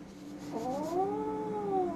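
A house cat gives one drawn-out, rising-and-falling meow close to the microphone, alone in a quiet room after a brief soft rustle.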